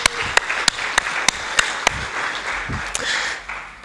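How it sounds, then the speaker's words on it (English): Conference audience at a morning session applauding two speakers, dense steady clapping with sharp individual claps popping out near the microphone, no talk over it. "je vous appelle à applaudir d'abord très fortement ces deux intervenants"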